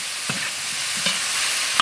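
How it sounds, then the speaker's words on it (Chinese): Cauliflower is stir-fried in a wok with chili sauce and soy sauce: a hissing sizzle runs throughout while a spatula makes three or four sharp scraping strokes against the pan, with no speech. "来一大勺干果酱，多来一点生抽， 炒一会儿，下入菜花"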